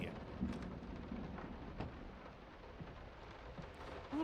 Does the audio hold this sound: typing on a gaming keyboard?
no